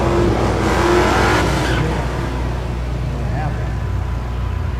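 Drag racing cars launching at the Thunder Valley drag strip in Noble, Oklahoma, a loud roaring engine rush that fades into the distance, with an announcer talking over it.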